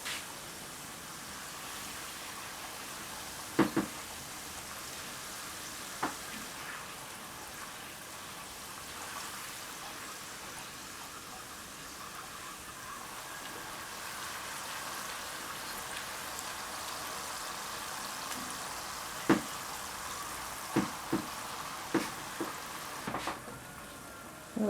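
Fresh tortillas fry in hot oil for chips, giving a steady soft sizzle and crackle that runs throughout, broken by a few sharper pops and ticks spread through the batch.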